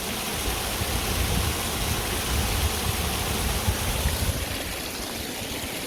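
Water pours over a weir or waterfall in a rural Peak District village setting, a steady broadband rush and splash that stays constant throughout at moderate distance, with no voices.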